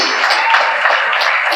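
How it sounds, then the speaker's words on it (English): A symposium audience at a university alumni anniversary event gives a round of applause, a steady, close wash of many hands clapping together for the whole moment. "Round of applause."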